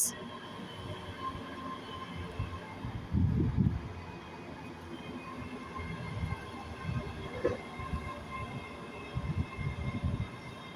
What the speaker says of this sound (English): There's that train just arriving.